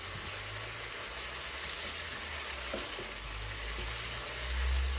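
Pork menudo frying in a pan as pepper is stirred in, a steady close sizzle with faint scraping stir sounds, with no talking.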